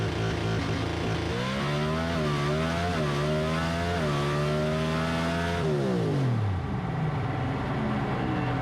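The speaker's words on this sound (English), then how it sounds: "See me go through a couple gears." A drag race car accelerates hard through its gears: a loud, rising engine howl breaks at each quick shift and climbs again, then winds down as the run ends.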